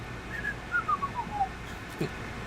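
A person whistles a short melodic tune, several clear descending notes in a row, followed by a brief soft thump.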